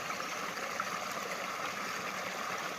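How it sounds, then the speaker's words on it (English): A small wild creek cascades over roots in a forest, giving a steady, even rush of running water at moderate distance, with no other sounds. "you got a cascade over some roots, and you got another little cascade coming down"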